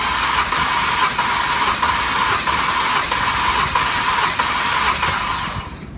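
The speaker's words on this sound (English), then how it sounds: "now we're gonna crank the engine until the increase in pressure is no longer indicated" A Mercedes 272 engine cranks over on the starter during a compression test, a steady loud whirring drone with faint rhythmic pulses from each compression stroke, running alone for several seconds before easing off at the end.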